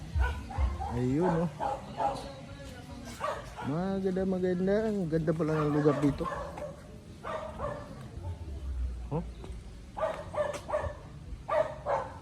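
Dogs bark and yip repeatedly at a gathering outdoors in Antipolo, some whining, howl-like barks standing out, while people talk close by over them.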